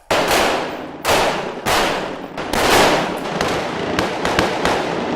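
Police officers firing military-style rifles on an outdoor shooting range: a rapid volley of loud, sharp cracks, several overlapping shots in quick succession, then scattered single reports.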